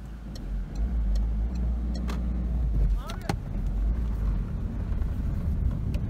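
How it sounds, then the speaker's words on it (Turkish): A car passes close by on the road, its engine and tyre rumble swelling and fading over a few seconds, heard from inside another car alongside wind noise. "Araba geliyor, geçsin."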